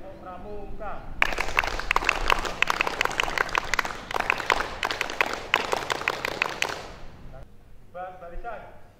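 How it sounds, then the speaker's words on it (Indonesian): A group of scouts at an Islamic vocational school performs the rhythmic Pramuka scout clap in unison, loud dense rapid clapping lasting several seconds, with a leader speaking briefly before and after. "2 kali tepuk pramuka."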